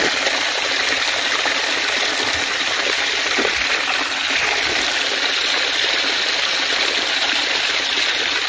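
A stream of water runs steadily along the Black Sea shore between Kabardinka and Novorossiysk, a continuous, even rushing and trickling close by with no voices.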